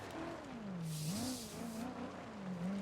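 A car drifting with the handbrake held in the BeamNG video game, a wavering engine note that rises and falls while a tire hiss swells in the middle, fairly faint and with no talk.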